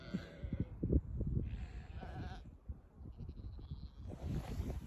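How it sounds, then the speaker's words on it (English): Several sheep of a small flock bleat at moderate distance in an Irish winter pasture, their wavering calls overlapping in bursts over low wind rumble and rustling. "They're pretty tame sheep."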